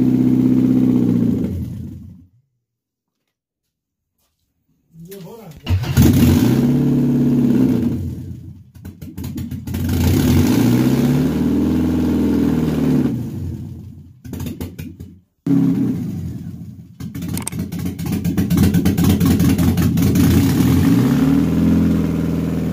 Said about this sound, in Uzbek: mashinani yo'ydik, motorni yurgizamiz